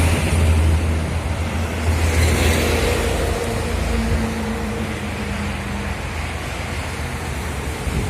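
A Putri Luragung Abdi Galur Express bus idles nearby with a deep, rumbling exhaust note, steady broadband engine noise carrying on for several seconds with no one talking.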